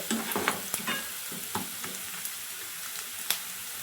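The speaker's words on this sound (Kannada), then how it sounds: "ಕ್ಲೀನಾಗಿ ಈರುಳ್ಳಿ ಜೊತೆ ಅದು ಕೂಡ ಮಸಾಲೆ ಫ್ರೈ ಆಗಲಿ" Sliced onions frying with a cardamom pod, cinnamon and marathi moggu for a chicken masala, giving a dense, even sizzle with occasional soft stirring taps, close and continuous, no talk.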